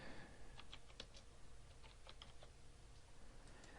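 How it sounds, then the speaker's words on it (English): Quick, irregular clicks of keys on a computer keyboard as a search topic is typed, steady and fairly close over a low background hum, with no talking. "you can type in a topic"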